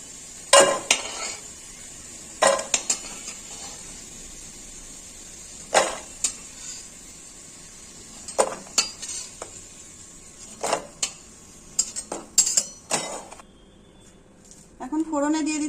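Fried potato pieces being stirred and scooped in a pan, with sharp metal spatula scrapes and clinks coming in scattered bursts over a faint background, close and fairly quiet.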